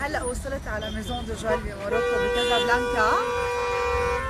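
Car horns sound behind someone talking on a busy Casablanca street, with sustained horn tones holding steady through the second half under her voice.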